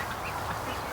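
Ducks quacking faintly in a steady outdoor wash of background noise, short soft calls from ducks working their way toward a lake.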